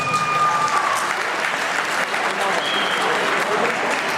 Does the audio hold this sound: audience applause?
yes